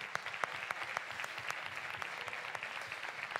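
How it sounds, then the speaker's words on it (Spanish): Audience applause at a bodybuilding awards speech, a steady wash of many hands clapping with scattered sharper claps, sustained at moderate level throughout without talk. "Un aplauso para ellos, por favor."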